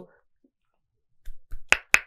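Two sharp, close hand claps for sound sync, crisp and evenly spaced, preceded by brief faint voice and a couple of soft knocks in a quiet room.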